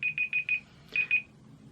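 A quiet electronic timer beeps in a rapid series of four short tones, pauses, then beeps twice more over a low background hum.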